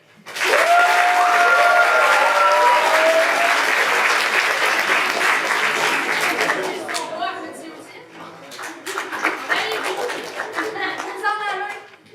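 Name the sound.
audience applauding a school magic act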